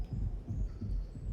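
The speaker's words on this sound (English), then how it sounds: "that sound is our heartbeat." Heartbeat in the Atomfall video game: slow, muffled low thuds repeating steadily about every third of a second, alone without talk.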